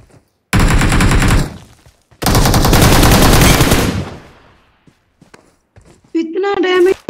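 Automatic gunfire in the video game PUBG Mobile, two long loud bursts of rapid shots close by, followed by quiet gaps and a short tonal game sound at the end.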